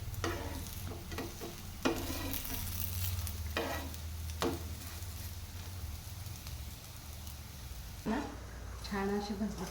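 Sabudana vada fry in hot oil until crisp, a steady crackling sizzle with occasional stirring scrapes and spatters, while someone talks over it.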